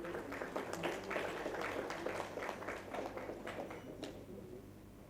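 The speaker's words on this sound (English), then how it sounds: "Let's hear a round of applause yet again." Sustained audience applause for session speakers at a sustainability summit, many hands clapping in a dense, even wash that slowly thins toward the end, heard at a distance and fairly soft.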